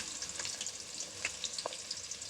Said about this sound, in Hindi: हमारा ऑयल गर्म हो चुका है, इसमें डालने जा रहे हैं हम प्याज